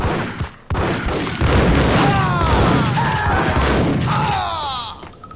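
Gunfire in a PS4 shooter game, heavy booming thuds layered under a loud, dense rumble of action, with a sharp blast near the start.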